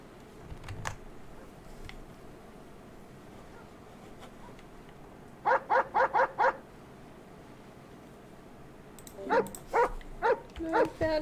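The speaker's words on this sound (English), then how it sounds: "Oh, I hear the dog." A dog barks in two bursts, a fast run of about five sharp barks followed later by a second, slightly looser series, heard indoors at moderate distance over faint room noise.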